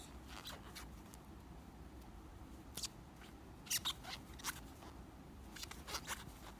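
Scissors snip through acrylic yarn during a crochet project, giving a few short, crisp clicks spaced across a quiet room with faint background hiss.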